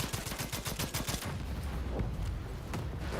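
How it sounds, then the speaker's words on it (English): Rapid bursts of gunfire crackle and then give way to a dense, rumbling blast wash during combat in the video game Second Extinction, with no talk. "let's explode this now that we're here"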